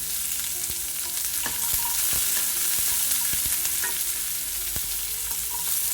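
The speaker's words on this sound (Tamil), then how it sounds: "வெங்காயம் கொஞ்சம் வதங்கட்டும்." Small shallots and dried red chillies frying in hot oil in a pan, a steady close sizzle with faint crackles and occasional light scrapes of stirring, no voices.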